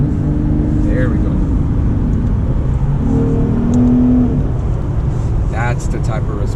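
A 2020 Lexus RC350 F-Sport AWD accelerates under near-full throttle, its engine drone steady and loud from inside the cabin with a rising whine mid-way, while someone talks over it throughout.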